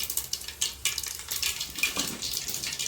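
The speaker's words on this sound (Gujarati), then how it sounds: "તેલ ગરમ થઈ ગયું છે એટલે પહેલાં થોડીક રાય નાખશું" Mustard seeds and cumin crackle and pop in hot oil, a dense sizzle with sharp spattering bursts, close and fairly loud, with no talking.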